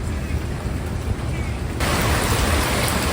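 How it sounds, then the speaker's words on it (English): Steady outdoor rain hisses as broadband wash, loud and close, growing louder partway through as the downpour thickens or the listener moves further into it, with no voice over it. "I went out in the rain again."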